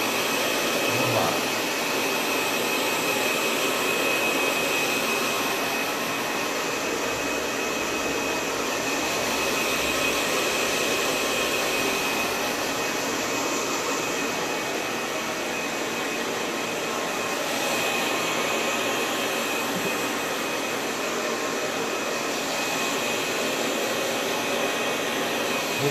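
A hair dryer blows steadily at a haircut salon station, drying a client's hair after a homemade cut, with a constant broadband whoosh that holds level for the whole stretch and no talking.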